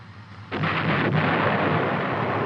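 An M551 Sheridan light tank's main gun fires once, a sudden deep boom that rolls on as a long, heavy rumble and fills the rest of the moment.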